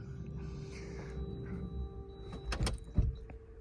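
A power sliding door on a Citroën C8 closes at the press of a button, a low motor hum building to a firm latching thud near the end, close by with no talk.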